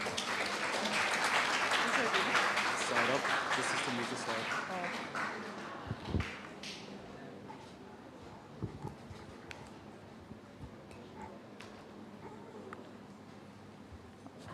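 Audience applause at a school club expo, a dense burst of clapping that fades away by the middle, leaving scattered claps, knocks and murmuring.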